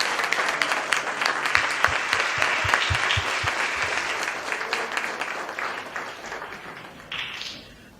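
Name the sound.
audience applause for the Kynard and Adams families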